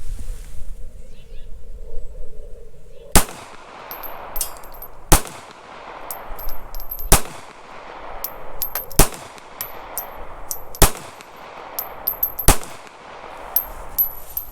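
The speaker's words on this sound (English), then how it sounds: "Let's try the Federal range target practice. Alright, 6 rounds of the Federal." A Taurus Spectrum .380 ACP pistol fires six rounds of Federal range target ammunition, each a sharp, loud crack spaced about two seconds apart, with quiet pauses between shots and no voices.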